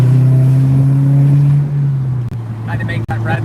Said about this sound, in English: So we're gonna hit VTEC up here